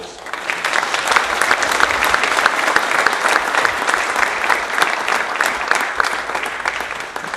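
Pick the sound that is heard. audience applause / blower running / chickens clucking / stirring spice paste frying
audience applause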